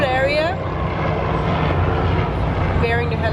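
A helicopter flies over the Hudson River, its steady low engine and rotor drone continuous and fairly loud throughout, with brief tonal sweeps near the start and end.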